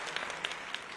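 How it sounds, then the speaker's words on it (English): A brief burst of faint, scattered clapping from a small podcast audience, quiet and distant, lasting about a second. "we're gonna give him a round of applause for that one"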